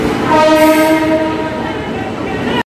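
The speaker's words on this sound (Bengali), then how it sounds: "অবশেষে আমাদের ট্রেন আসছে। আমাদের ট্রেন চলে এসছে" A loud train horn blares over the heavy rumble of the Ajmer–Sealdah Express, hauled by an Indian Railways WAP-7 electric locomotive, rolling into a station close by, the engine noise steady until it cuts off abruptly.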